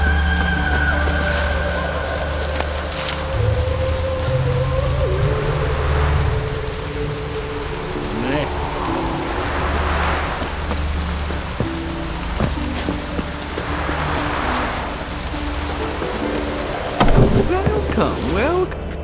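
Rain in The Witcher 3: Wild Hunt, a steady wash of falling rain over low ambient game music, with swelling gusts and a brief louder splash near the end.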